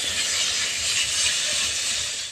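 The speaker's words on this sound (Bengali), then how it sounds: "বাটারে দিয়ে চিকেনটা একটুখানি ভেজে নিচ্ছি হালকা করে" Chicken pieces frying in melted butter, a loud, dense, continuous sizzle and hiss filling the short stretch evenly without pauses or talk.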